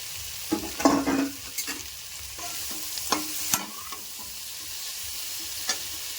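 Vegetables stir-fried in a pan of pui mituli with ground mustard and cumin paste, a steady sizzle broken by several loud scraping stirs early on and a few sharp knocks later, with no one speaking.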